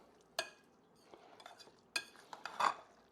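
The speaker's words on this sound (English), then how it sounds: "With sauce and rice and cheese. Mix that all together." Rice, sauce and Pecorino and Parmigiano cheese stirred together for a rice casserole, a few soft, scattered clinks and wet scrapes of a utensil in a bowl, quiet and sparse.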